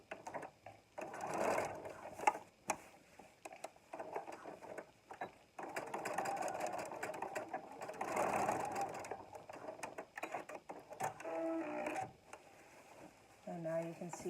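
A sewing machine stitches the seam of a small elastic scrub hat in quick running bursts with brief pauses, close by and moderately loud, with a voice talking over parts of it.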